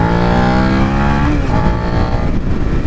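A 2017 Suzuki SV650 naked sport motorcycle revs hard under acceleration, its engine note climbing in a steady rising whine that runs loud and close through the full stretch.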